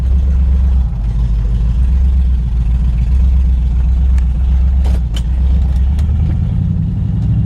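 A 1968 Chevrolet Camaro V8 idles a little high through an aggressive exhaust, a loud steady rumble with a close, uneven lope and a couple of small revs near the end.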